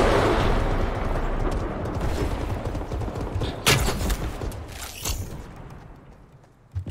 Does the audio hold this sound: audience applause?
no